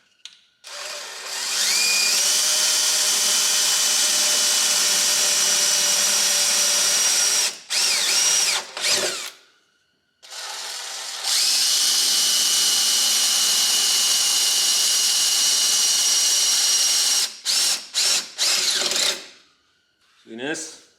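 A power drill boring a license plate mount hole in a Polaris Ranger: two long, loud, steady whining runs, each ending in short stop-start bursts, with a brief pause between them.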